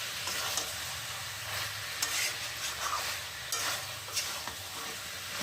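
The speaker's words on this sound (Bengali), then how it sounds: "এখন দিয়ে দিলাম মিট মশলাটা দিয়ে আমি আরেকটু নেড়ে ছেড়ে নিচ্ছি।" Chicken pieces coated in meat masala are stirred in a hot pan, a steady low sizzle broken by sharp scraping and clacking strokes of a spatula every second or so.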